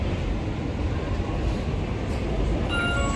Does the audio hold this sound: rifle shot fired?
no